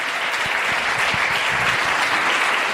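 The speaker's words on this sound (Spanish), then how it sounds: "Dale un fuerte aplauso al Señor en esta tarde" Loud, sustained applause from a large crowd, steady and dense throughout with no voices standing out.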